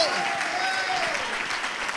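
Church congregation applauding during a worship celebration service, steady dense clapping throughout with a few voices and cheers mixed in.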